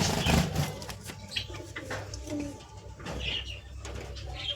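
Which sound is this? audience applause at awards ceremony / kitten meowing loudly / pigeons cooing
pigeons cooing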